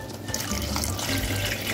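Water poured into a pot of quick soup on the stove, a steady close splashing and trickling fill that runs throughout with no talk over it.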